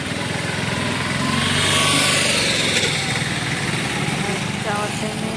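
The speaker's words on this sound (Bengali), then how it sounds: "এই যে শানু বাইক বার করছে বাইরে দিয়ে" A motorcycle being wheeled out of a house idles and revs with a light, buzzy engine note, fairly close and continuous, rising briefly in the middle.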